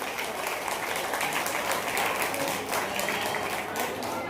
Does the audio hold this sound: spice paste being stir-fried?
no